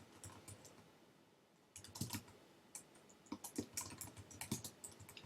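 Computer keyboard typed on in quick irregular bursts of close, crisp key clicks, while an online listing for a used gas burner is written, starting after a short quiet pause; no voices.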